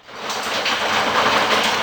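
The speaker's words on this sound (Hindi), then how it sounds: "आपको बारिश की आवाज़ तो आ रही होगी।" Rain falls steadily as a dense, even hiss, fading in quickly and then holding at a constant moderate level with no voices.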